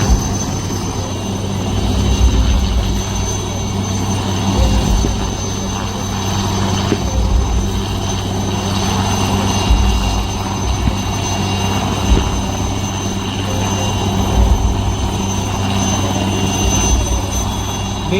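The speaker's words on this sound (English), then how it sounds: "here the wounded soldier of 14 Bihar is being evacuated by Cheetah helicopter" Indian Army Cheetah helicopter flying a wounded soldier out during a Vijay Diwas demonstration, its engine and rotor a loud, steady drone that continues unbroken throughout with no talk.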